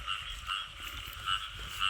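Frogs croaking in a steady chorus during a night frog hunt, with repeated rhythmic calls that rise and fall a few times, close and fairly loud, with no voices.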